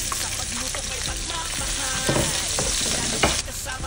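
Garlic and onion frying in a pan for rabbit adobo, a dense constant sizzle with scattered stirring knocks and clatters, close and loud with no speech.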